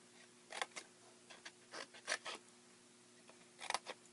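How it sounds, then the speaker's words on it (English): Scissors make a few quiet, scattered snips and rustles as they cut paper for a scalloped tag topper box, faint and close with pauses between cuts. "we want to take a pair of scissors, and we're going to go ahead and cut in"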